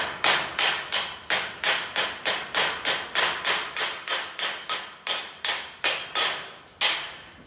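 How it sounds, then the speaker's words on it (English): A slag hammer chipping the coating off a fresh, still-hot weld bead, sharp metallic strikes repeating in a steady rapid rhythm, about twenty close, loud blows with short ringing decays. "I'm going to use my slag hammer to break the coating off"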